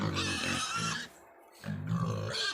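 Young pigs grunt in a low, rough series of snorts, close by, with a short quiet gap midway before the grunting resumes.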